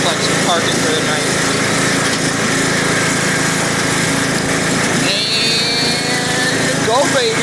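A Craftsman riding mower engine drones steadily throughout as the machine climbs a hill, loud and continuous with a shift in pitch near the end, while voices speak over it.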